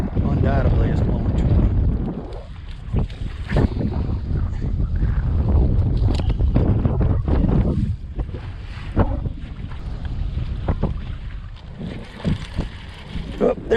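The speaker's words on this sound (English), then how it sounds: "I had no idea that the wind was blowing this hard" Strong wind, around 20 knots, buffets the microphone on a new bass fishing boat out on open water, a steady loud rushing roar with gusty surges, heard under someone talking.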